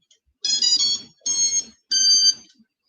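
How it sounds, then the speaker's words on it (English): A multirotor drone gives three loud, shrill electronic beeps in an even rhythm as it disconnects, each lasting about half a second with short silent gaps, heard close and alone. "It'll beep, letting us know that it's going to disconnect here."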